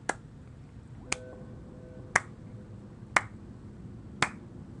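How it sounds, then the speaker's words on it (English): Five slow, evenly spaced claps ring out about a second apart, sharp and isolated against a quiet background, a deliberate sarcastic slow clap during a game session. "Let's slow clap."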